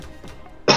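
A single short, loud cough bursts out near the end after a moment of quiet, low background sound.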